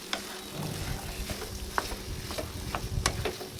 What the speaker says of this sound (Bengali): এখন সেই সিদ্ধ করা ছোলাগুলি দিয়ে দিচ্ছি। এখন নেড়ে চেড়ে ভালো করে মিক্স করে নেব।